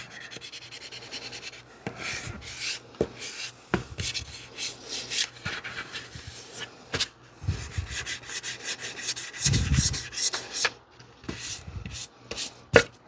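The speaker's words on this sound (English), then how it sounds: "seems to be doing an okay job sanding this out" Repeated rasping strokes of sandpaper rubbing back and forth over airbrushed paint on a hard armor piece, close and fairly loud, in uneven bursts with short pauses.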